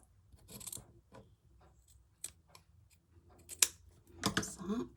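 Scissors snip through fabric scraps during hand embroidery work in a series of irregular, crisp, close cuts separated by quiet pauses and light rustling.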